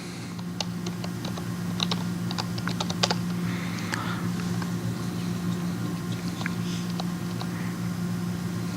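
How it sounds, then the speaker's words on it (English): Typing on a computer keyboard during a live LVM demonstration at a conference talk: steady, fairly close key clicks in irregular bursts over a constant low hum, with no talking. "being able to type on this keyboard"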